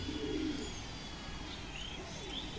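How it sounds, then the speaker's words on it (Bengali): A female pigeon in a loft gives one soft, low coo near the start, then faint hiss and distant chirps fill the rest. "এই যে বন্ধুরা আর একটা মাদা পায়রা দেখুন, আদ্রা পেয়ার পায়রা।"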